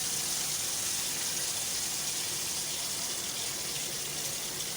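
Washing water being emptied out of a bowl used to rinse sand from vegetables, a loud, continuous splashing gush of pouring water that stays steady and close for the whole stretch, with no voices.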